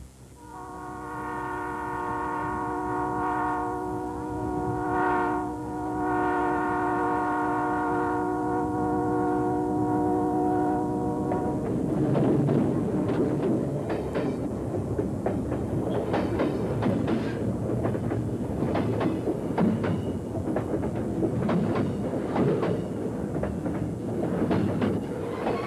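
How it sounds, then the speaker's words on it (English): A train horn sounds for several seconds, then gives way to a steady rumble and rhythmic clatter of wheels rolling along the rails. "Noisy train, wasn't it?"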